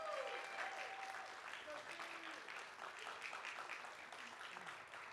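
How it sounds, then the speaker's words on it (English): An audience at a school board meeting applauds students with steady, even clapping that sounds distant and faint, as if picked up from across a large room. "Let's give them a round of applause."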